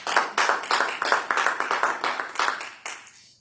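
A church congregation applauds in sharp, rhythmic unison claps, roughly a dozen even beats that speed up slightly and then fade into a last few scattered claps.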